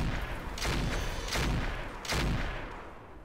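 Mech weapons firing in the Roguetech BattleTech game, a rapid volley of heavy booming blasts in three or four bursts, loud and dense, with no talk over them.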